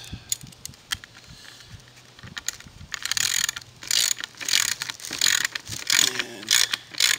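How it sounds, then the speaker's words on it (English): Steel bolt being screwed by hand into a T-nut during module construction, pulling the T-nut into alignment, giving quick close ratcheting and mechanical clicking bursts that grow busier and louder toward the end, with no talking. "As soon as the bolt catches the thread on the T-nut, it starts to pull the T-nut into alignment."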